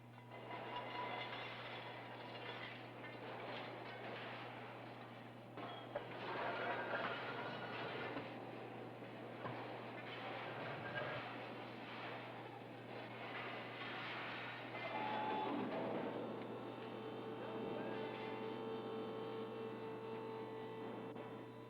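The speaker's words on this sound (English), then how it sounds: "the sound of a trolley heralds the arrival of the new pot for the glasshouse" A trolley bringing a new pot to a glass furnace rolls through the glasshouse with a steady, faint rumbling clatter over a constant low furnace drone.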